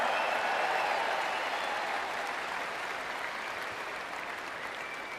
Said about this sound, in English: Another big round of applause for her.